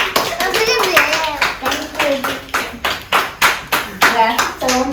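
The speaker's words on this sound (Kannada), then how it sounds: "ಕ್ಲಾಪ್ ಮಾಡ್ರಪ್ಪ ಎಲ್ಲ" An audience applauds the first-prize winner of a children's drawing competition with brisk, rhythmic hand clapping close by, while voices talk over it.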